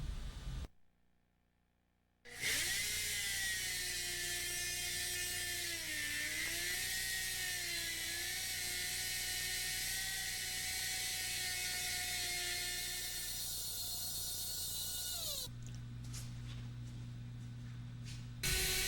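A router fitted with a 3-inch triple classic plunge bit cuts a four-poster bed part, its motor holding a steady, loud whine for about thirteen seconds after a short silence, then shifting pitch as the cut ends.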